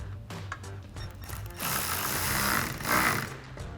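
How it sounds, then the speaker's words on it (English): A socket or screwdriver tightening a hose clamp on an F-150 K&N cold air intake. Quick mechanical clicks give way to a whirring ratchet-like rasp, close and fairly quiet, with no speech. "we can get an 8mm socket, or you could also use a flathead screwdriver, and we'll tighten down our clamp"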